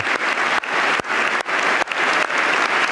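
Donald Trump leads a crowd, military personnel among them, in loud, dense applause that keeps dropping out briefly at regular intervals, so the clapping arrives in choppy bursts of about half a second each.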